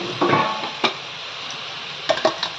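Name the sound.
stir-frying spring onion, capsicum and carrot in a pan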